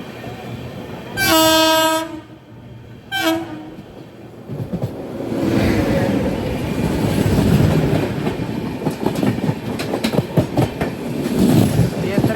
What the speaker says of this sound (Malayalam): ദേ വിവേക് എക്സ്പ്രസ് കടന്നു വരികയാണ്